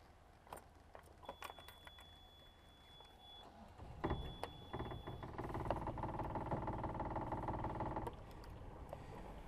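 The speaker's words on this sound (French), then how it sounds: "on laisse un petit peu tourner le moteur" After some clicks and mechanical rattling, a boat engine turns over and settles into a steady, low idle that continues to the end.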